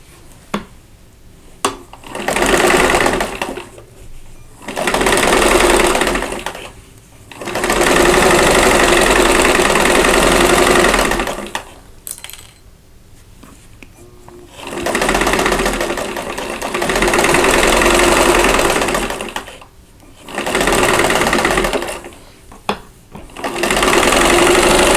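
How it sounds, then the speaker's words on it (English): Sewing machine stitching a seam on a chain link quilt block, running in several sustained bursts of a few seconds each with short pauses between, close and steady with no talking. "I'm going to nest the center seam and I'm going to pin it, and then we'll sew this together."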